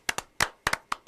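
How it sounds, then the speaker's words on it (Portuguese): A single person claps hands seven times in an uneven rhythm, sharp close slaps in pairs and singles with short gaps, no talking. "Eu vou bater palmas para você."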